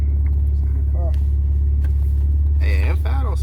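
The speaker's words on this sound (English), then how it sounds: "M5 don't sound too bad" A BMW M5 with a V8 idles close by in a steady, loud low rumble throughout, with people talking over it.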